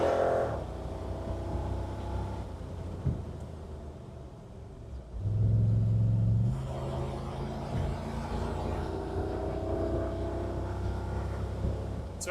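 A 400HP Wolf car running on a Haltech Nexus R3 standalone ECU drives along with a steady, low engine rumble and a brief swell in revs midway, with no talking.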